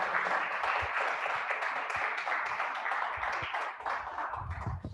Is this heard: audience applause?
yes